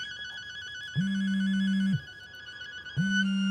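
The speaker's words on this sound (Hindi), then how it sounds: "ऋषि, मेरा फोन बज रहा है." A mobile phone ringtone plays close by in two repeated tonal bursts, each about a second long, over a steady looping electronic melody.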